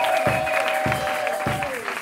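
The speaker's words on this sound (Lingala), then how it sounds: "Les acclamations pour le Seigneur et Seigneur." A church congregation claps in a steady rhythm, about one beat every half second, close and loud, over sustained singing voices.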